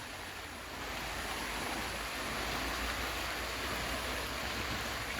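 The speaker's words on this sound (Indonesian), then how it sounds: "menyeberang sungai yang deras ini" The swift, wide Saddang River in Enrekang rushes continuously, a dense, steady roar of turbulent water close by with no voices over it.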